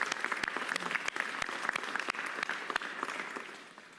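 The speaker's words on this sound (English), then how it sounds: "Let's give a big round of applause to everyone from Pioneer Works." At a mayoral press conference, a room of people applauds with a dense patter of clapping, sharp individual claps standing out near the microphone, before it tapers off.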